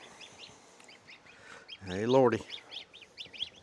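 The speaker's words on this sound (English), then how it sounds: "Couple of baby geese." Baby geese peep in a brooder with repeated high, thin chirps throughout. A voice exclaims loudly partway through.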